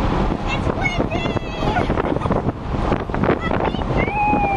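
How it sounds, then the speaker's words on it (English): Strong wind buffets the microphone in an open car moving at speed around a racing speedway, a loud steady roaring rush, with people talking and shouting over it. "It's windy."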